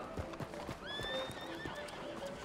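A horse whinnies in a rising, wavering call while hooves clip-clop steadily underneath, in a video game with a busy game-like background throughout.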